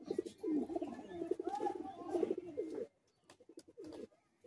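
Caged Madrasi high-flying pigeons coo in low, throaty rolling bursts, close and fairly loud for about three seconds, then a quieter gap with a final short coo near the end.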